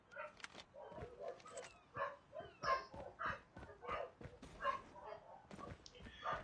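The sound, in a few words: dogs barking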